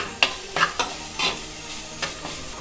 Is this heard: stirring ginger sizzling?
yes